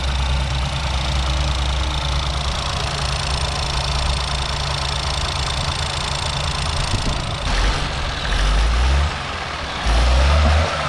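A 2018 Ford EcoSport with a 1-litre EcoBoost engine in poor condition idles loudly and unevenly close up, a constant low drone with rough, knocking undertones and a couple of late surges.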